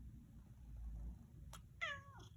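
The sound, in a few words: cat meowing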